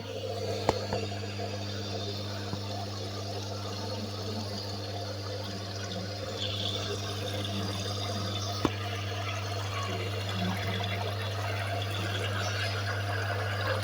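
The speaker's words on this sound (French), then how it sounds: "Voilà, il se met en eau." A Brandt dishwasher fills with water during a repair, giving a steady rushing flow over a constant low mechanical hum from the pump, close by and continuous with no talk.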